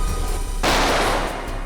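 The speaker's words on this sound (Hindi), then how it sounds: "सर हम लोग गोली की आवाज सुनकर बहुत डर गए थे" A single loud gunshot effect from the CID TV crime drama cracks out suddenly partway through, then rings and fades over the next second, with no voices.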